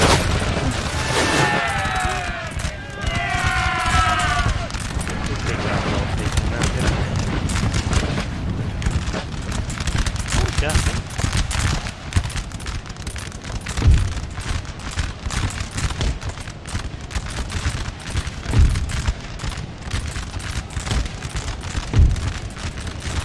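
Musket volleys and booming fire ring out in a Napoleon Total War battle between Saxony and Prussia, a dense stream of cracks and thuds over a long stretch with a few heavier booms and a faint voice early on.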